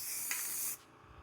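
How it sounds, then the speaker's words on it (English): Rust-Oleum black spray paint hisses from an aerosol can onto a brake part on a 2015 GMC, a single steady close-up spray burst that cuts off abruptly. "just take some whatever spray paint you got laying around. I've got some Rust-Oleum black here"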